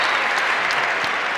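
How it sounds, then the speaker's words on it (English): A basketball arena crowd at an Indiana versus Michigan game gives a steady, even round of applause, a broad wash of clapping from many hands. "It's a nice round of applause."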